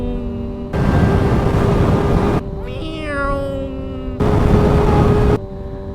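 A voice imitates a cat's meow with a drawn-out rising then falling call, set between two stretches of loud, steady noise.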